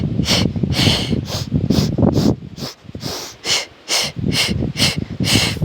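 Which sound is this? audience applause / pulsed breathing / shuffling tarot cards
pulsed breathing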